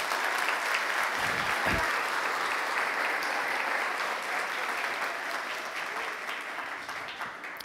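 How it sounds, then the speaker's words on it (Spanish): A church congregation applauds during a Spanish-language service, giving a dense, sustained roar of clapping from a large crowd that fades slightly toward the end, with no speech over it. "Denle un aplauso al Señor por ello."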